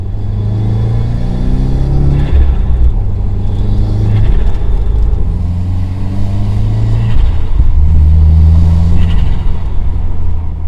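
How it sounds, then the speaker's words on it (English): A 2015 Subaru WRX turbocharged engine under load from inside the car, a loud steady rumble with rising and falling drone tones as it accelerates through gears, and faint turbo whoosh and intake sound on top. "you will definitely hear some added intake and turbo noises from this piece"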